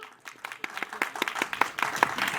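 A crowd in a shopping mall atrium breaks into applause for a film crew guest, dense overlapping clapping that swells and holds, with a few cheers riding over it and faint talk beneath.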